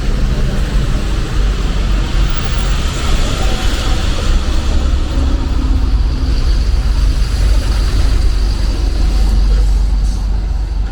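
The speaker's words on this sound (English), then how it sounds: "Local buses flying by." Local buses roar past on a busy city street in Parral, Chihuahua, Mexico, a loud, sustained engine drone and road noise that swells and lingers over roughly eleven seconds.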